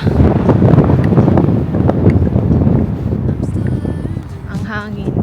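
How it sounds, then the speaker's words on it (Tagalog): Strong wind buffets a phone microphone at the start of a hiking trail, rough low-pitched rumbling gusts that are loud and close, easing off slightly near the end while a person talks under it. "Ang hangin. Hindi ko dala yung mic ko."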